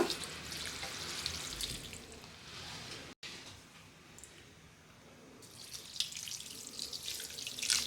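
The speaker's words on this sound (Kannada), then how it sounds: "ಇವಾಗ ನೀರು ಹಾಕೊಳ್ಳೋಣ" Water pours into a cooking pot in a home kitchen, added after dill leaves and rock salt for a sago bassaru curry, a steady broadband splashing rush that stops briefly midway before resuming, close and fairly quiet with no talk.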